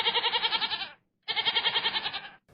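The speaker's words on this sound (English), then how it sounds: "The goats are here for a couple of reasons." Goats brought in to graze and landscape library grounds on Huron Street bleat loudly and close by in two long, quavering calls separated by a brief pause.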